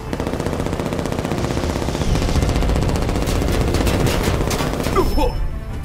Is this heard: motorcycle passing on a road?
no